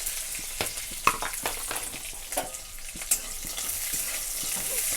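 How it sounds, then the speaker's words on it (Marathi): Peanuts and green chillies fry in a little oil for sago chivda, a steady close sizzle broken by repeated sharp scrapes and clinks of a spoon stirring the pan, with no talk. "त्याच्यासोबत शेंगा पण थोड्याशा तळून घेते मी"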